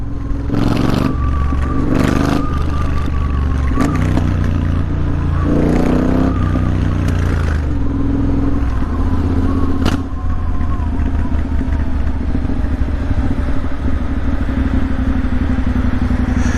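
A motorbike ridden at night through London's Christmas lights revs loudly and constantly up close, its engine pitch rising and falling with gear changes, punctuated by clatters and wind noise.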